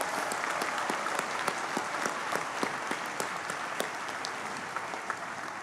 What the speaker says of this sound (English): Graduates, please join me in a round of applause for the families that are here and supported you during